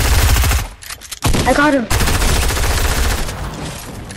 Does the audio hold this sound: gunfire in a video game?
yes